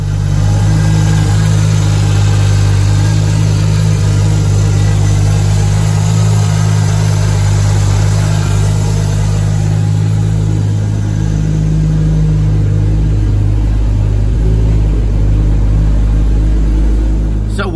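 Turbocharged Lexus SC300 with AEM Infinity engine management running on a dyno, a loud steady engine rumble with strong low drone, holding near-constant throughout with slight rises like light revving.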